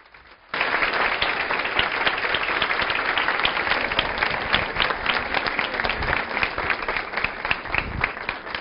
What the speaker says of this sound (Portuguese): vamos receber com um aplauso caloroso Glória Calil